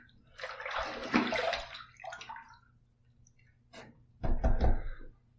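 Water splashes and sloshes during a rinse while shaving, a long splashy burst followed by a brief pause and then a second louder splash, with no talking.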